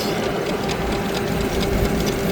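A Kverneland NG-S 101 rotary harrow, 3.5 m wide, turns its tines with a dense, continuous mechanical clatter and whir, loud and steady with a constant tone running through it.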